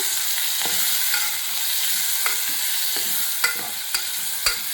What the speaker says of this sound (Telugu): మగ్గినాక కట్ చేసుకున్న టమాటో వేస్తున్నాను వేసాక కలుపుకోవాలి బాగా